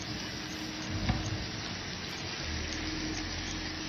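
Goat liver sautéing in a pan with red chili powder and black masala, a steady broadband sizzle and frying hiss throughout with faint stirring clatter, no talking.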